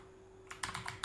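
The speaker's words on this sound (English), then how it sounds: "Sorry, I typed something wrong." Computer keyboard typing, a quick burst of about five crisp, close keystrokes after a moment of quiet, faint overall.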